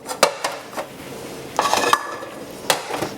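Dishes set down over stove burners while cleaning a kitchen stove, giving several sharp clinks and clatters of crockery against metal, close and moderately loud, spaced irregularly with a brief scraping shuffle in between.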